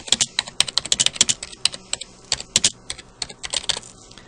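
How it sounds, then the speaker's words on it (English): Rapid, uneven clicking of keys on a computer keyboard, close and clear, with brief pauses between bursts of typing. "let me go ahead and start typing."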